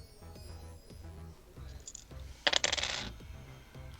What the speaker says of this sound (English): I hear dice.